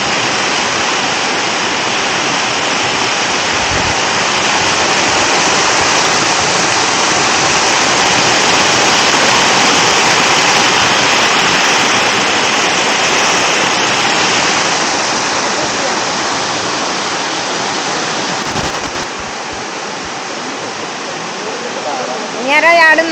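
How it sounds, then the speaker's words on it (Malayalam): Pattathippara waterfall in a forest, water falling in a constant loud rushing roar close by, steady for the whole stretch and easing slightly near the end. "ഇവിടെ താഴേക്ക് വെള്ളം വീണണ്ട."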